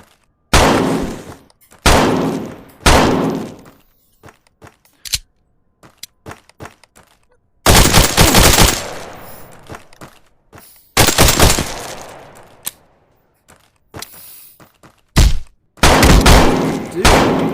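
Loud bursts of gunfire in a tactical shooter game, several separate volleys with sharp single shots between them and near-silent gaps.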